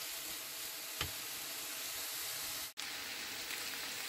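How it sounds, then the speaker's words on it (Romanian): Mushrooms fry in a pan with little added fat, a steady soft sizzle with an occasional stir or tap and a brief dropout near the end. "aștept ca ciupercile mele să prăjească și ele"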